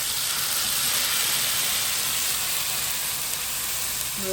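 Dried chillies and ginger frying in hot oil over a big flame, a loud, steady, bright sizzle and hiss that continues unbroken, with no voices.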